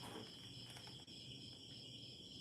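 Crickets chirp steadily at night beside a bonfire, a faint high continuous trill of several insects under quiet background noise, with no voices.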